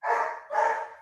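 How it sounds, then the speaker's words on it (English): Dogs bark twice in quick succession, loud and fairly close, with no talking. "God, those dogs are loud, huh?"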